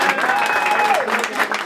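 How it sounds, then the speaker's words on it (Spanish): Birthday party guests with a mariachi band applaud, a loud, close burst of clapping and cheering that runs through the whole short moment, with voices mixed in. "Y ese aplauso bien lindo para él."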